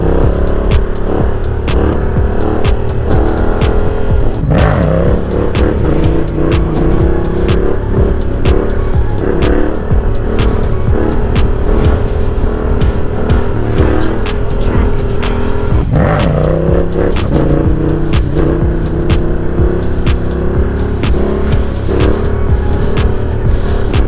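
A Yamaha Tracer 700 motorcycle accelerates hard through the gears, its engine revving up and dropping at each shift, loud and close throughout the ride.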